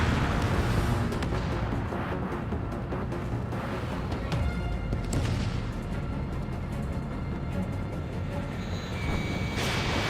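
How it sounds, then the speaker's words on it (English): Missile strike explosions from the Ace Combat 7 flight combat video game, dense booming and rumbling blasts layered over continuous jet roar, loud and sustained with no talking. "Missile hit."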